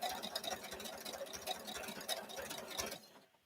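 Sewing machine stitching quilt borders on a Spools and Stars quilt, a quiet, rapid pulsing whir of needle strokes that runs steadily and then stops near the end, with no talk over it.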